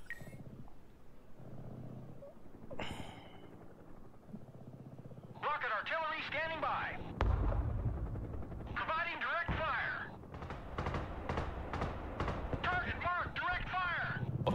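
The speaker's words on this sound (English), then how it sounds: "Mobile artillery ready. Send mission." Mobile artillery firing in the Broken Arrow war video game: a heavy low thump lands mid-stretch amid rumbling battle noise, with mechanical whirring and occasional sharp cracks, while radio-style voices talk throughout.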